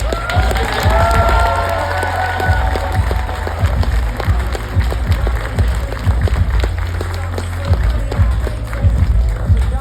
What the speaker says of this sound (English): Please give Mr. Matthew Garland, MG, the mortgage guy, a round of applause.